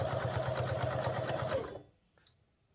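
Sewing machine stitching a shirt collar, a fast steady needle rattle running close and clear for under two seconds before stopping abruptly, a faint click after, no talking.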